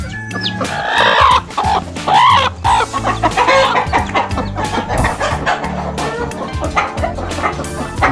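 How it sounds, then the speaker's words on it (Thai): Domestic chickens, a mix of native Thai birds, Rhode Island Reds and Leghorns kept for eggs on a mango orchard farm in Kabin Buri, cluck busily and steadily nearby, with other animal calls mixed in. "มีไก่บ้าน"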